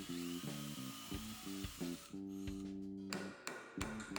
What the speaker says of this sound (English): Just finishing the hole here with my elongated drill bit.